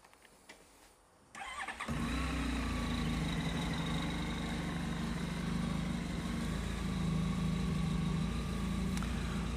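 A Honda VFR1200F DCT motorcycle engine cranks briefly and catches, then settles into a steady, close, even idle with a low throbbing hum that runs to the end without any talk.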